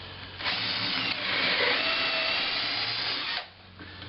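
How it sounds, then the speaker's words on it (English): Hand drill boring a hole straight through wood for a folding-leg work table, a steady close whine running for about three seconds before winding down. "You can use a hand drill, but it's pretty tough to get a straight hole if you try to drill all the way through like this."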